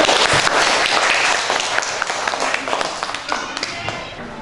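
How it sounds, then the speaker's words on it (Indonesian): Students clap for a classmate in an elementary school classroom, a brisk dense round of applause heard close up and filling the room. "Kasih tepuk tangan."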